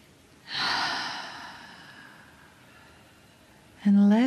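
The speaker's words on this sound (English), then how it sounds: "take a breath with me. Big inhale. And another inhale." A single long, deep inhale drawn slowly through the mouth, close and soft, fading out over a few seconds before a voice begins.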